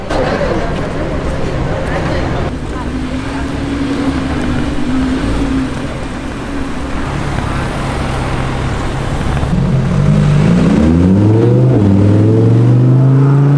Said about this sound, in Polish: Klaudia zdecydowała się przejechać zielonym hurakanem.